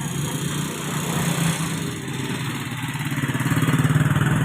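Motorcycle engines running steadily nearby, a mid-pitched droning hum that grows slightly louder and more pulsing toward the end, with no talk.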